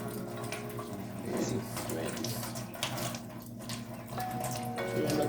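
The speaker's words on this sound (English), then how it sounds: "So guys, this is how I rinse my leaf." Guava leaves rinsed under a running tap, a continuous close splash and patter of water with small rustling shifts, steady and moderate in level, with someone speaking over it.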